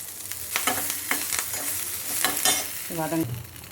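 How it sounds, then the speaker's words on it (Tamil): Peppercorns, ginger, green chili and curry leaves sizzling in hot oil in a pan, with a steady crackle broken by several quick popping bursts and a scrape of stirring, close and fairly loud. "மிளகெல்லாம் வெடிக்கிறது"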